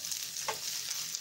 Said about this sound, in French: j'ai pris un demi-oignon que je mets donc à fondre. Je fais sauter comme ça.